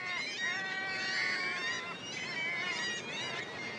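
Kittiwake gulls call during courtship displays, the males noisily showing off to females. Their harsh, nasal, honking cries overlap and repeat steadily throughout, moderately close, with no voices.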